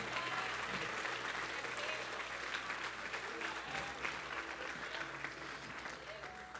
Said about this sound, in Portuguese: Aplauda o Senhor, muito obrigado.